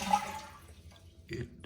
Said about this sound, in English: The issue with my toilet is when you flush it,